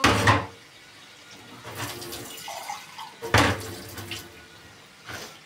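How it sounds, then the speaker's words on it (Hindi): Water is poured into a pot of chicken and tomatoes for aloo chicken curry, giving a splashing, gurgling pour in bursts with a couple of sharper knocks and clatters in between. "यहाँ जो हम इसमें थोड़ा सा जो है पानी डाल देंगे ताकि चिकन और जो टमाटर है वो थोड़े से गल जाए"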